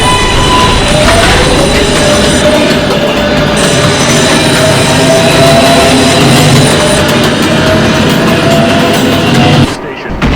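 An R142A 6 subway train pulls out of a station, a loud, continuous rumble of motors and wheels with rising whining tones and squeal building as it accelerates, ending in a sudden drop near the close.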